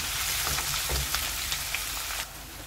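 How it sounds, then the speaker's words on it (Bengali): Chopped onion hitting hot oil with whole garam masala spices and two dried red chillies, a steady crackling sizzle with small pops throughout, close and continuous, with no voices. "মশলাগুলো ভাজা হয়ে গেছে, কুচনো পেঁয়াজটা দিয়ে দিচ্ছি।"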